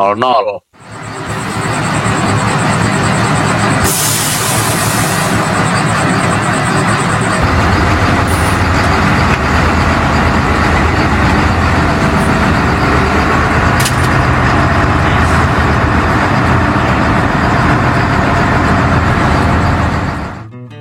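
An old intercity bus engine drones steadily as the vintage bus creeps along slowly, a loud, continuous low rumble with rattles and a brief hiss, filling the cabin throughout.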